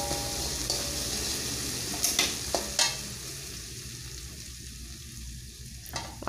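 Ground spice paste sautéing in a pan for beef rib soup, a dense, close sizzle with a few sharp spoon scrapes and clinks early on, then steady frying alone.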